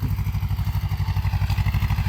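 A walking tractor ploughing a rice field chugs close by with a fast, even single-cylinder thump, its loud rhythmic knocking and clatter running throughout with no talk.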